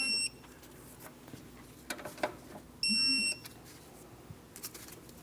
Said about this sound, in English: I'm going to torque each one of these 2 mounting bolts to 18 foot-pounds.